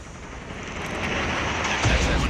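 A Goliath mech landing in Call of Duty, a loud rising roar and rumble of thrust building over a couple of seconds, with a heavy low thump near the end.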